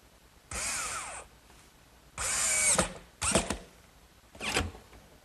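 A power drill drives several screws into the wooden base of a bookcase, four separate bursts of whirring with short gaps between them, close and fairly quiet, with no talking.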